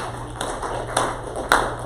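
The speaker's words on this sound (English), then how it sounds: "let's clap our hands a few times" Hands clap three times at a steady, unhurried pace: short, sharp claps at close range over a low background hum.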